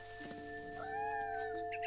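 A cat meows in the video game What Remains of Edith Finch, a single drawn-out, rising call over steady game music, moderately loud and close.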